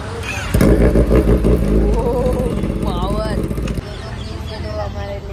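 A motorcycle engine starts up and idles loudly nearby with a low, throbbing rumble, while people talk over it.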